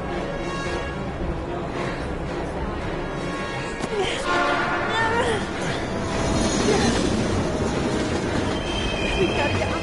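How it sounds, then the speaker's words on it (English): A train approaching with rumbling wheels and squealing metal in the Heavy Rain video game, building steadily louder over nearly ten seconds while voices speak over it. "We've got to get on that train, Ethan."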